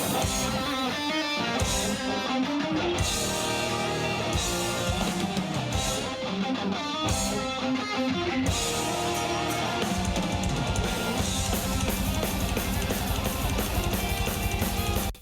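A live band performing a song, picked up by an on-camera microphone as a dense, loud, continuous wash of drums, guitars and voice with brief drops, sounding roomy and distant.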